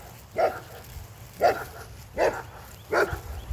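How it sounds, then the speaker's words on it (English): A large dog barks four times at steady, spaced intervals, deep and moderately close, over a quiet room background. "he's got a big bark"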